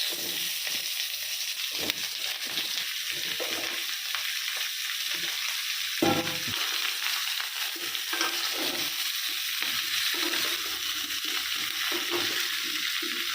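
Raw mango pieces fry in mustard oil in a nonstick pan, a steady close sizzle with occasional stirring scrapes and small pops throughout.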